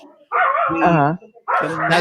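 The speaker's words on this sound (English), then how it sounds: "Those are not my dogs." Dogs bark and yip loudly close by in two quick bursts, with a short gap between them.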